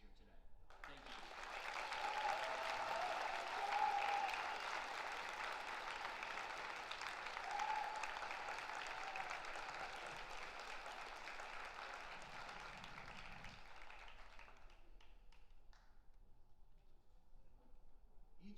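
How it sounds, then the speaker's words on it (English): Round of applause for staff and students at a high school graduation ceremony, broad crowd clapping that swells early, holds for over ten seconds and then thins out into quiet room noise. "I would just like to get a round of applause for all the staff and students here today"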